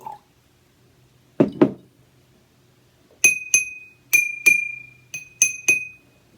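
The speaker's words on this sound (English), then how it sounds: "maybe let's see if we can change the pitch of this one so it matches that one, just by pouring water in." A glass being tuned by pouring in water gets struck repeatedly, giving two dull knocks, then a series of bright, ringing clinks with a steady tone. The strikes come in loose pairs, close and clear, with no talking.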